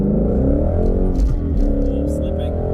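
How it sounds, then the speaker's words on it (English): Ford Mustang GT350 engine revving hard on a winding mountain road, a loud sustained roar with rising and falling pitch as the car climbs through the revs, with someone talking over it. "Give it a little gas and let you listen to what this incredible engine sounds like."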